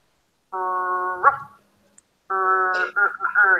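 A person imitates a dog bark with the voice, giving two drawn-out, bark-like vocal sounds separated by a short pause, close and clear, as part of an English pronunciation lesson.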